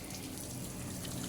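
Water is poured to bathe a sacrificial animal at a household qurbani: a steady, continuous rush and splash like running water, fairly close, with no voices.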